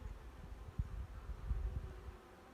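A soft, low buzzing of honeybees hums close by from an open hive, with faint handling bumps and rustles, quiet and without speech.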